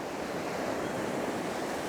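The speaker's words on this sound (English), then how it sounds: "Whooshing waves." Ocean waves on a seascape shore whoosh as the water rushes back, a continuous, even hiss of surf with a soft wind-like roar throughout.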